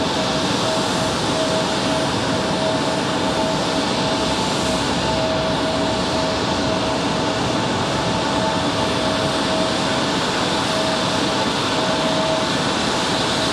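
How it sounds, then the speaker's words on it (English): A Lufthansa Airbus A340 moves along the ground at Raleigh-Durham airport, a continuous loud engine rumble with a thin steady tonal whine over it, unbroken and without voices. "A340, Lufthansa on the move."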